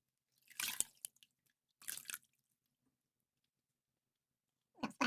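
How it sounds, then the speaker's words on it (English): Water splashed onto a beard before shaving: two short wet splash bursts close by, then a pause and a brief final splash, quiet and with no talking. "Splash of water on the beard here, just wiping off the extra."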